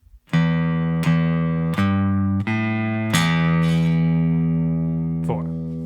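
Guitar closing out a 12-bar blues, about five ringing plucked chords struck one after another, each left to decay, then a final soft touch as the sound dies away.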